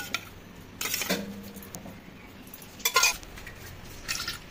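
Kolkata-style beef biryani with rose water stirred in a pot, a utensil scraping and clinking against the metal in a few separate bursts, close and alone.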